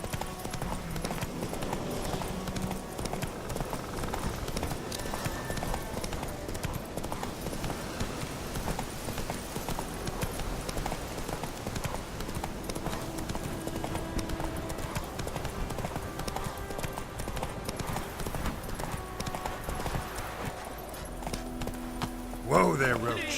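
Roach, a horse in The Witcher 3, gallops with a steady clip-clop of hooves throughout, mixed with game music and ambience; a voice speaks briefly over the hoofbeats.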